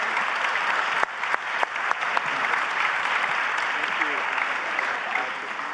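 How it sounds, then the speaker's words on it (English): A conference audience applauds steadily for several seconds, a dense wash of clapping with a few sharper individual claps near the start. "This is your applause. Much appreciated."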